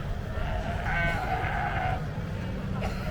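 A ram bleats at the Royal Highland Show agricultural fair, one drawn-out wavering call at moderate distance amid a busy crowd hubbub, with a second shorter bleat near the end.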